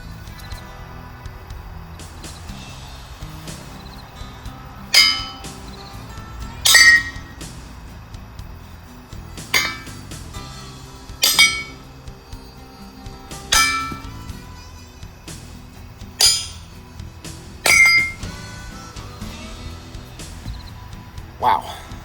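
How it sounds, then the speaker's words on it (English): Light hammer taps on metal plates fixed to a Peter Wright anvil ring out as sharp metallic clinks, roughly a dozen spaced strikes over a low background rumble. "But a light tap and those stupid metal plates on that anvil just popped right"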